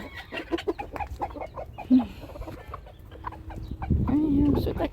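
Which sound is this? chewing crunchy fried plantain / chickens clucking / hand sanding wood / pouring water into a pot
chickens clucking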